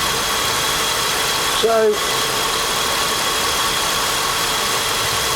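A Holden VT 3.8 V6 with an overheating issue idles while warming up, a steady, loud engine drone close by, with someone briefly speaking over it.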